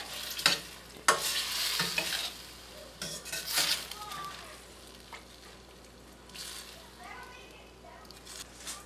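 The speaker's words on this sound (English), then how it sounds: "Turn this again, stir it up as it's cooking down." Chicken curry simmers in broth while a utensil scrapes and stirs the pot in short bursts, with soft bubbling between strokes and a person talking over it.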